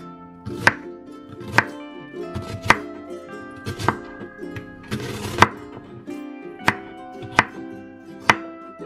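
Knife chopping an onion on a cutting board for coriander chicken: about nine sharp, evenly spaced chops over a steady low hum, close and crisp, with no talking.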